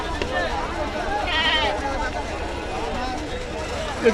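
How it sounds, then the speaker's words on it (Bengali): Sheep and fat-tailed dumba bleat amid the busy crowd babble of a livestock market in Ashulia, Savar, Dhaka, a few calls rising over steady background chatter and people talking. "এদিকে ভেড়া দেখতে পাচ্ছি আবার আমরা ভেড়ায় চলে আসলাম দেখেন অনেক ভেড়া গারল দুম্বা দেখতে পাচ্ছি"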